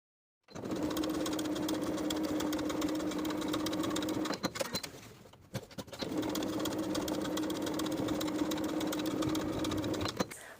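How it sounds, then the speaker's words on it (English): Sewing machine running steadily while top stitching a curved jeans pocket edge, a continuous close mechanical whir with a brief pause midway before resuming. "Top stitch this curved edge twice, first at 1/8 of an inch, then once more at 1/4 of an inch."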